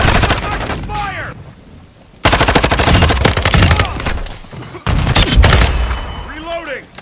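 Loud automatic gunfire in Call of Duty: Modern Warfare II, with rapid machine-gun bursts that start abruptly, stop, then resume, over shouted voices and whooshing effects.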